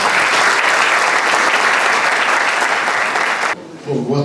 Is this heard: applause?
yes